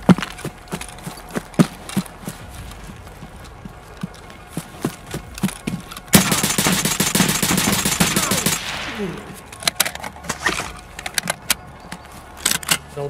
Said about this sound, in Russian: Дробовик, блин.